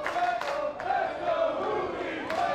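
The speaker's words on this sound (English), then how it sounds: "the crowd split here between the two as the chants of Let's Go Fuego and Let's Go Juvi" Lucha libre wrestling crowd split into dueling chants for two luchadors, Fuego and Juventud Guerrera, rhythmic repeated chanting from many voices filling the arena at moderate volume.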